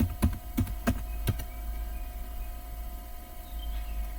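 A few quick keystrokes on a computer keyboard typing a short Linux terminal command, four crisp clicks in the first second and a half, then a quiet steady hum of the room.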